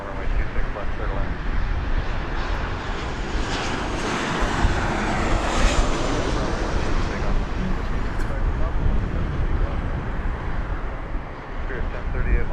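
A Boeing 737 airliner with a red belly, arriving from Burbank, on final approach to land at Las Vegas Harry Reid International Airport, producing a loud, steady broadband jet roar that holds throughout.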